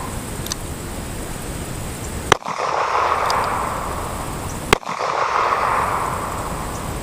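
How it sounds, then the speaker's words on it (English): Two sharp, loud reports from a .38 Special handgun firing 110-grain jacketed hollow point rounds, spaced about two and a half seconds apart, each followed by a brief ringing decay over steady background hiss. "38 special, and here I'll be shooting a 110 grain jacketed hollow point projectile."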